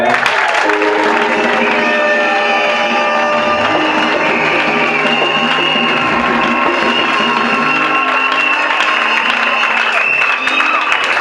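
A church congregation at a New Year service cheers and applauds loudly and continuously, a dense crowd roar with whoops, voices and clapping filling the room throughout.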